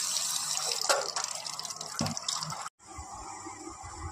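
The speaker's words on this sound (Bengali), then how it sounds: "ঝিঙের খোসাগুলো ধুয়ে নিচ্ছি।" Ridge gourd peels are washed under running water, splashing and dripping close by, with a brief break in the flow before it resumes.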